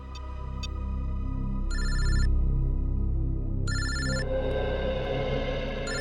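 A telephone rings in repeated electronic bursts over a low, droning background, with no one speaking.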